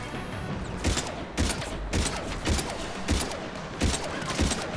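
Gunfire in the video game Mass Effect 3, loud bursts of rapid shots repeating roughly every half second to second, with a steady background of game noise and no talk.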